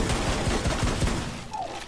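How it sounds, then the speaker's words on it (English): Rapid burst of gunfire in a multiplayer shooter video game, about a half-dozen sharp, close shots in quick succession, then tailing off into ambient noise. "Did you notice you shot me?"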